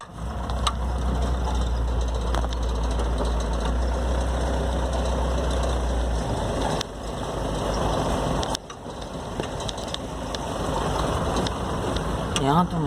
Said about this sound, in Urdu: یہ ٹریکٹر ٹرالیاں ہیں